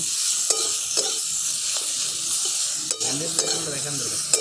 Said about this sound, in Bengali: সব কিছু আমি একসঙ্গে খুব ভালো করে কষিয়ে নেব।